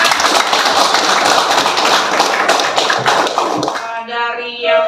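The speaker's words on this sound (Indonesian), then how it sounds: "Aplaus untuk kita semua." Students in a classroom break into dense, steady applause that fills about four seconds, then the clapping stops abruptly and a voice follows.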